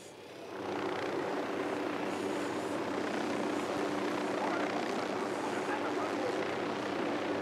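A drone hovering in the game Ghost Recon Wildlands gives a steady, dense whirring drone that fades in and holds at constant loudness, with no audible talking.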